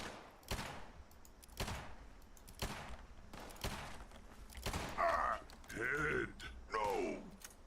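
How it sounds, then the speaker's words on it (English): Gunfire in the Fallout 76 video game, several sharp shots spaced about a second apart, followed by grunting and groaning creature sounds over a low game background. "Somebody else shooting at me too, I think."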